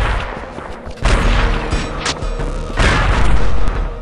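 Loud, booming shotgun blasts in the video game Blood 2: heavy blasts near the start, middle and end, with rumbling echoes and effects between them.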